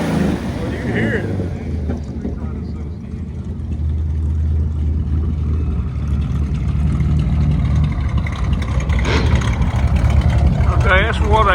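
An old Dodge with a 2.4-liter straight-six engine idles and runs with a low, steady rumble and occasional light revs, outdoors at a street rod gathering, with a continuous broadband mechanical drone throughout.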